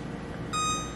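A short electronic beep from an oven's timer button as it is pressed, a single clear tone lasting about a quarter second over faint room noise.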